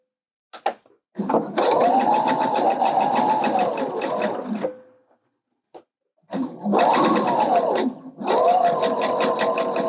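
A sewing machine stitches the shoulder seams of a blouse in two long, loud, rhythmic runs with a short pause and a few faint clicks between them, and no talking.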